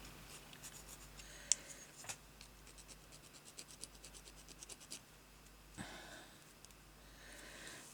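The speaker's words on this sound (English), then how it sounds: "There's a bit on the end there. I'm going to file that off. That bit of plastic." A small bit of plastic is filed off by hand, giving quiet, close, scratchy rasping strokes in irregular bursts with a few faint clicks against a hushed room.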